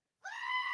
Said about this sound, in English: He likes our screaming goat.